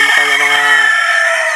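A rooster crows loud and close, a long strained harmonic call, with chickens clucking around it in a farmyard during afternoon feeding.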